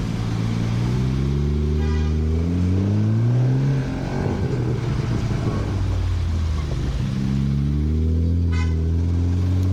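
Supercar driving on a Bangalore road, loud engine note rising and falling through revs with gear changes, over city traffic with occasional horn toots.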